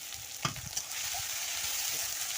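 Spices, onion and ginger-garlic fry in a pan as a spatula scrapes and stirs a couple of times, then a steady, moderately quiet sizzle carries on alone.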